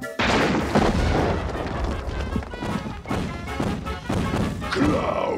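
Car being smashed in a cartoon episode of The Tick, a series of loud crashing and thudding impacts with booming hits, continuous and close.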